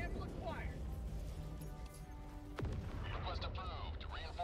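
Air burst explosions in the shooter game Helldivers 2, booming blasts and a sharp crack amid constant battle noise, partly under people talking.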